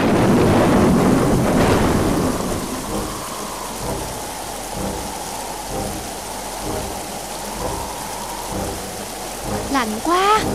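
Heavy rain pours steadily while a loud thunderclap rumbles at the start, then the downpour continues with occasional closer crackles.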